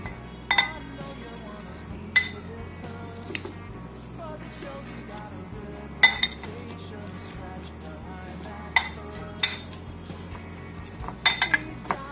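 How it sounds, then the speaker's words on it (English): Three boiled potatoes being mashed in a bowl, heard as scattered clinks and knocks of utensil on dish over a steady low hum, close and without talk. "3 boiled potato. So I have to mash them."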